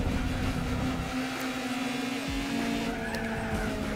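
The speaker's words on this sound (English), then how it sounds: "This car just slides" A car in Gran Turismo 4 slides loosely through a lap battle, its steady engine drone joined by a continuous tire-skid squeal, loud and unbroken, with no talking.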